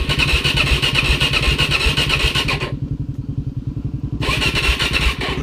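A 2015 Suzuki DRZ400SM motorcycle with a no-start fault, its engine cranking and catching into a loud, rapid, pulsing single-cylinder beat, briefly dropping to a muffled low throb before the sharp roar returns.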